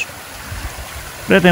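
A small stream of water trickles away from a medieval-style fountain pool with a soft, steady babble, and a voice speaks over it at the very end.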